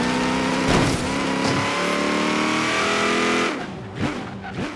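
Racing car engine in Forza Horizon 3 screaming at high revs, loud and continuous with harmonic whine, a rev drop and shifts near the end, during a rainforest race at Byron Bay.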